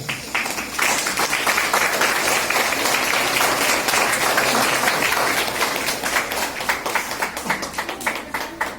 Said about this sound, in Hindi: आप लोग तालियों की आवाज बनाए रखें।